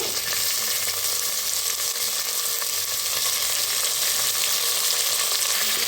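Carrot, cauliflower and potato fry in a pan with a dense, steady sizzle that holds evenly throughout, close and fairly loud, with faint stirring beneath.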